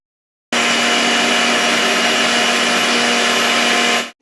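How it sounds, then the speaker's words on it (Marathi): A mixer grinder blending a finger millet batter with curd and water, a loud, steady, close motor whine that starts abruptly, runs about three and a half seconds and then cuts off. "मी हे मिक्सरला फिरवून घेतलेलं आहे."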